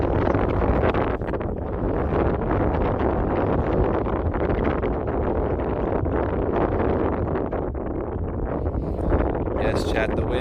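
Strong gusty wind outdoors buffeting the microphone, a continuous loud roaring rush with a voice briefly audible near the end.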